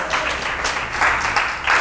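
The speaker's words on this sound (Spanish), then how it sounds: "dale un aplauso al Señor." Applause from a church congregation in Panama, steady hand clapping that swells in brief louder bursts, heard close with no voices over it.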